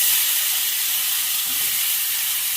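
Sliced large onions sizzle in hot oil over tempered spices for a Tamil fish curry, a steady, loud, even frying hiss that fills the whole moment with no talk.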